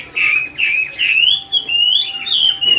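A caged songbird, a tame bird, sings close by in a loud, continuous run of bright whistled phrases, rising and falling, with short pauses between bursts.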